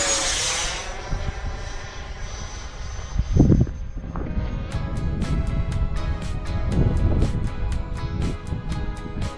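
An airplane takes off with a swelling engine roar, loud and sustained for several seconds, while a steady run of regular ticking clicks plays over the second half.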